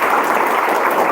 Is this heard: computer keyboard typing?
no